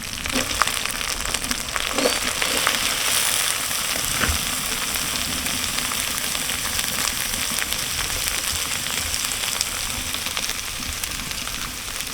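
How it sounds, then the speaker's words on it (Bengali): Taro stolons hit sizzling spiced oil in a pan, giving a loud, continuous frying hiss with crackle that holds steady at close range from start to finish. "আমার মশলা থেকে তেল ছেড়ে দিয়েছে এখন আমি কচুর লতি দিয়ে দেবো"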